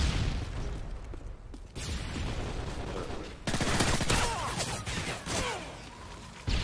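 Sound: gunfire from the video game Call of Duty Modern Warfare 3

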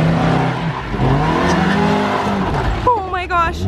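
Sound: Miata off-road car driving over rocks

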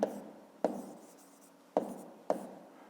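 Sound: writing down an answer

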